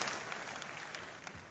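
Brief burst of audience applause in a large hall at a corporate anniversary celebration, a faint, distant, even patter of many hands clapping with no talking.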